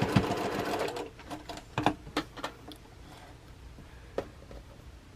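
A sewing machine stitches a quilt block seam a quarter inch from the edge, its needle running in short bursts with ticking clicks between, close and fairly quiet with no talking.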